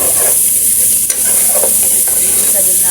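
Browned aromatics sizzle loudly in a pan as rice is stirred in, a dense constant frying hiss with scraping stir strokes and one brief knock, close by and without talk.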